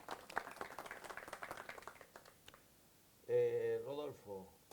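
Audience clapping greets a speaker at a climate action panel, a scattered, fairly quiet round that fades out before a voice speaks.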